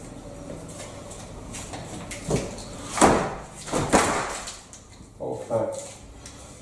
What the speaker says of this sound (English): we've got sufficient space at the top to lift the door on, pop it back down on the hinges